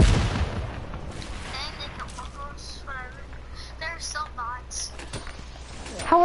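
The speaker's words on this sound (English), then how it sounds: "It was an explosion." An explosion in a video game opens with a sudden loud boom that quickly fades, followed by scattered quieter game sounds while people talk over it.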